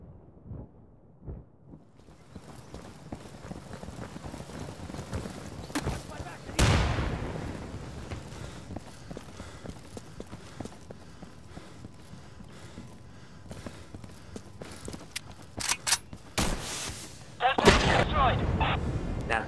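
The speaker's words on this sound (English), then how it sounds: "Look out, I'm throwing a grenade." A thrown grenade in the shooter game Insurgency goes off as a loud burst midway, with scattered gunfire, footsteps and heavy rumbling blasts toward the end.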